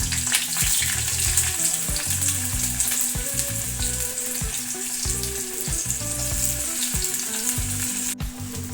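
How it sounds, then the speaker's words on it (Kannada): Chopped onions frying in hot oil in a pan, a continuous loud dense sizzle with faint stirring throughout, close and steady, no voices. "ಎರಡು ಈರುಳ್ಳಿ ಕಟ್ ಮಾಡಿ ಇಟ್ಕೊಂಡಿದ್ದೆ ಅದು ಹಾಕ್ಕೊಂಡು ಫ್ರೈ ಮಾಡ್ಕೊಳ್ಬಿಡೋಣ"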